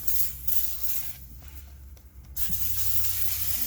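Battery terminal cleaner sprays from an aerosol can onto a motorhome battery in short hissing bursts, fairly close, over a low steady hum.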